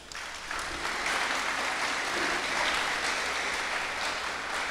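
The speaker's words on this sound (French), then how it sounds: "On peut applaudir Klaus." A church audience applauds a young speaker named Klaus at a youth rally, with steady, dense clapping from many hands that holds at an even level throughout, fairly close and without talk.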